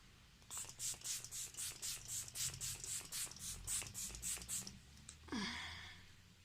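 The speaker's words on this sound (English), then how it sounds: "I'm just gonna set using the Maybelline Lasting Fix setting spray with the matte finish" A rapid series of about fifteen short pumps of Maybelline Lasting Fix matte setting spray in steady rhythm, close and crisp, followed by a brief rustle.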